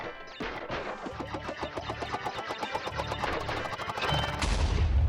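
A rapid string of crunchy, cracking impacts fires off in quick succession, dense and loud, boxes being smashed one after another in Crash Bandicoot.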